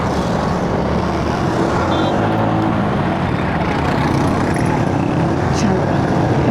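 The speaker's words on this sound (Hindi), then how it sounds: "पीछे से बहुत ज़ोर से ट्रैफिक आ रही है" Heavy road traffic rushes past behind a car on a busy road near Gujranwala during roadworks, a loud continuous roar of engines and tires, with a person speaking over it.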